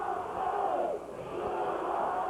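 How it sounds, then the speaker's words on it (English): A wrestling crowd in a Portland arena in 1983 chants together in a steady, loud wash of massed voices that swells and dips in rhythm. "Now the crowd chanting, we want Billy."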